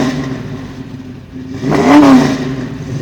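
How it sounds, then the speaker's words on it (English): Car engine fitted with a Flowmaster aftermarket muffler revving once from idle, the exhaust note rising and falling in a short, loud burst near the microphone. "revving the engine lets people know that it's definitely not stock"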